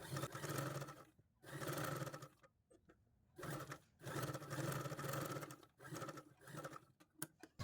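A sewing machine stitches a folded fabric edge on a beginner's dress, running in three long loud bursts with short pauses between them and no talking.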